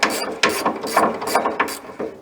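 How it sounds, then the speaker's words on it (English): A hand ratchet clicks rapidly in repeated back-and-forth strokes while loosening rusty bolts on the skid plate of a 1983 Jeep CJ5, close and steady over about two seconds, with no talking. "we'll get in here and get these last couple bolts loose"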